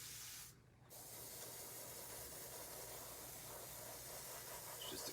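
An airbrush sprays paint onto a custom Halloween mask in a steady, close, continuous hiss that stops briefly near the start and then runs on evenly with a slight spitting texture.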